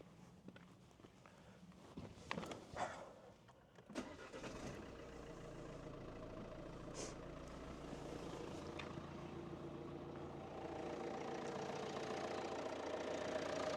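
A Jeep Renegade with the Multijet 2 diesel engine starts after some shuffling and a few clunks, then settles into a steady, loud, close idle that keeps running and swells slightly toward the end.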